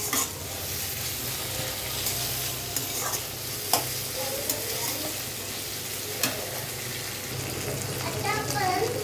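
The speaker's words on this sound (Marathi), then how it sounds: "चांगलं तेलामध्ये आपण त्याला परतून घेऊ." Mixed vegetables for a veg Maggi masala are tossed and stirred in hot oil, giving a continuous sizzle with scraping and clinking of the spoon against the pan, under a soft background hum.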